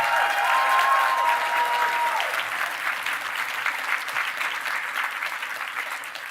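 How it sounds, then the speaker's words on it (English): Audience applause for costumers at a convention closing ceremony, a dense sustained clapping from a large crowd that fades slightly toward the end, with no talking over it. "Another round of applause, please"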